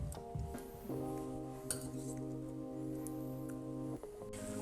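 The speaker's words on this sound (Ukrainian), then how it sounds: "беремо нашу сковорідку і прямо сюди, в сковорідку, ми її переносимо" Homemade black pasta with shrimp is tipped into a metal frying pan, producing sharp clinks and a sustained ringing metallic tone, close and fairly quiet, with brief clatters at the start and end.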